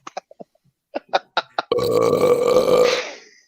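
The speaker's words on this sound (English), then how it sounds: "it really does sound like your voice burping" A soundboard burp plays as one long, loud, rumbling belch after a few short clicks and taps.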